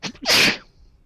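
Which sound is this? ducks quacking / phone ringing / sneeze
sneeze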